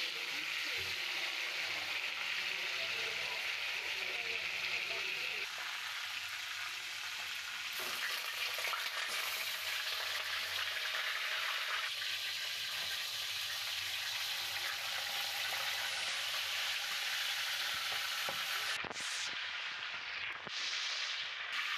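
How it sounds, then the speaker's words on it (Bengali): Salted chicken pieces fry in a pan with a steady, loud, dense sizzle that runs throughout, with occasional stirring movements and a brief shuffle near the end. "লবণ দিয়ে মাখা চিকেনকে ভেজে নিব।"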